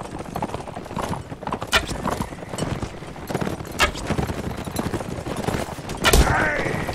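Horses gallop in the Mount and Blade video game with rapid, dense hoofbeats throughout, mixed with scattered combat clatter and a brief swell near the end.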